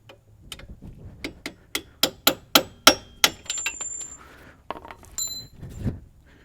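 A punch is hammered to drive a stuck strut bolt out of a GM front strut assembly on a Chevy Cobalt or Pontiac G5: about a dozen sharp metallic strikes come in a steady rhythm, loud and close, then a few scattered clinks.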